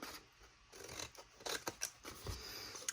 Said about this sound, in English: And we'll cut that one off.